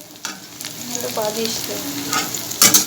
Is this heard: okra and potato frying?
yes